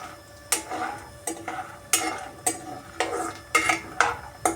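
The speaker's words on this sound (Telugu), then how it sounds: "సిమ్లో పెట్టుకొని ఒక మూడు నిమిషాలు బాగా ఫ్రై చేయండి" Chutney ingredients being fried in a pan over a low flame, stirred with a spatula: about seven regular, close scraping strokes, each a short rasp with a faint sizzle beneath.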